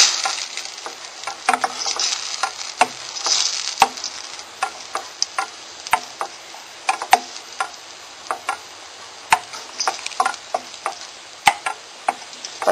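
A spoon scrapes and taps around a pot of Neapolitan lasagna sauce with pepper and basil in irregular strokes over a soft steady sizzle, with sharp clicks scattered throughout.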